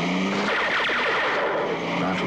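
A fast racing car revs hard and speeds off with screeching tyres, loud and close, a steady roar throughout with a voice partly over it.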